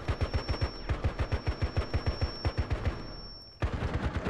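Rapid automatic gunfire in a multiplayer shooter video game, a fast even stream of sharp close shots that pauses briefly near the end and then resumes.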